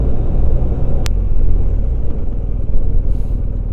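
A BMW R1250 GS motorcycle engine drones steadily on a test ride, with loud continuous low rumble and wind noise close to the rider, plus a single sharp click partway through.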